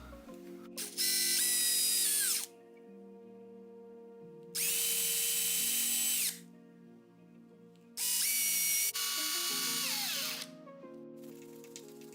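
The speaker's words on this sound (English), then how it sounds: "Then you can come in with a wood drill bit" A power drill with a wood drill bit whines through wood for door hinges in three separate bursts, each running a couple of seconds, with quiet pauses and faint ratcheting between them.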